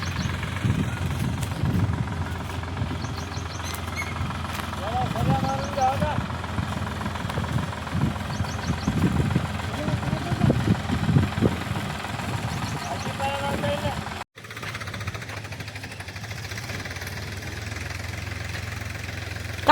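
A tractor engine runs on a farm in the evening, a steady low drone with some uneven knocking pulses, moderately close, with voices nearby.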